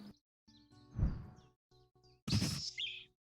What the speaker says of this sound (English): Sadie's Warbler makes a nice sound.